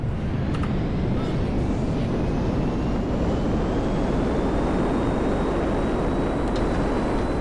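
Airplane in the GTA 5 video game roars steadily in a continuous broadband engine drone that stays loud and even throughout, apparently alone.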